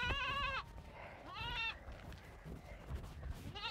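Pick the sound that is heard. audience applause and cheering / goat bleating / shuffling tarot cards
goat bleating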